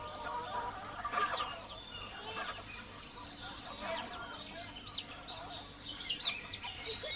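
Chickens raised by Kayan villagers on the Kalimantan Plateau of Borneo cluck and call faintly and continuously in a busy outdoor yard, with overlapping bird sounds at a distance.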